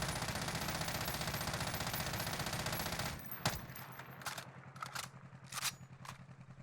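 A FAR rifle with a fast magazine fires in the Warzone game, a rapid continuous burst of shots for about three seconds, then a few separate clicks and short rattles as the action stops.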